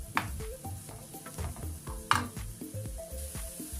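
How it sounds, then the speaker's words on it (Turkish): Onions and garlic sizzle and fry steadily in a hot pan while a utensil stirs and scrapes through them, with a few louder clinks along the way. "Bunları güzelce kavuracağım."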